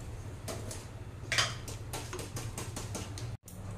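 A spoon stirs rice continuously in a pot for Bengali bhog khichuri, giving soft repeated scraping and clinking against the metal at a steady rhythm, close and fairly quiet, with a brief cut near the end.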